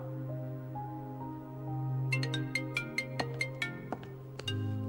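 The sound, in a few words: phone ringing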